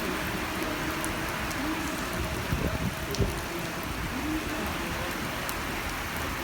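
Heavy rain falls steadily on a wet railway station platform at Redfern, a dense, loud, unbroken hiss with a few faint knocks and thuds mixed in; no voices.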